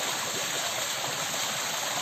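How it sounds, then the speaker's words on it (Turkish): A small waterfall in a clear stream rushes in a steady, close, continuous wash of water with no voices. "Bakın burada da çok güzel bir e, minik şelalecik var."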